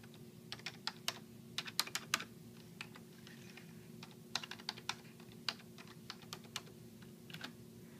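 Someone types on a computer keyboard at an office desk, a close run of quick, uneven key clicks in short bursts with brief pauses, over a low steady hum, with no speech.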